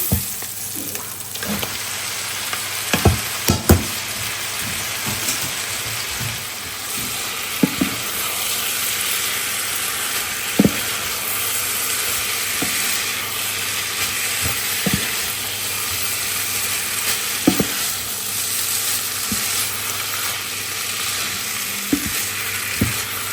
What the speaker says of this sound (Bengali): হাত দিয়ে মাংসটা ঝুড়ি ঝুড়ি করে দিয়েছি সব কিছুর সাথে একসাথে ভেজে নিচ্ছি